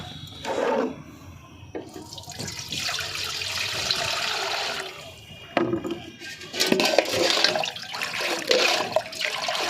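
Water mixed with magnesium sulphate is poured onto the roots of an old bougainvillea plant, giving several bursts of splashing and trickling close by, separated by short pauses.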